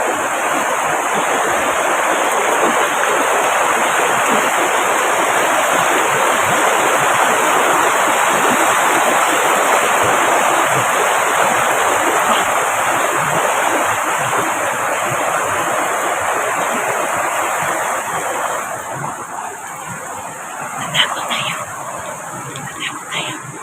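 Creek water flowing in a steady broadband rush, close and continuous, softening near the end where faint voices and movement come through.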